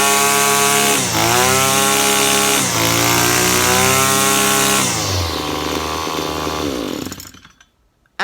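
A petrol strimmer engine running loud and close, its two-stroke whine dipping and rising through several throttle blips before the revs drop and it cuts off into silence.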